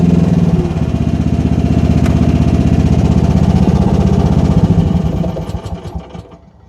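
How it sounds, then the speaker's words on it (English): A Rippa R10 mini excavator engine runs steadily at close range, a dense low rumble with rapid pulsing, then winds down after about five seconds, sputtering briefly before falling quiet. "So I'll just shut down the machine"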